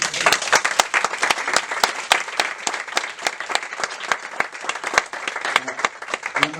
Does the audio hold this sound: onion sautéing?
no